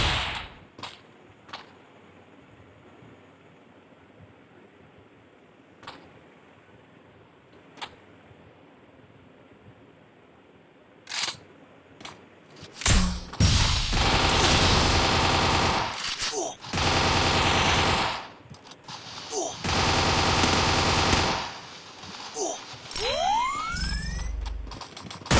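Gunfire in the mobile battle game Free Fire: a few sharp, isolated shots early on, then loud, sustained bursts of automatic fire with short pauses between volleys in the second half.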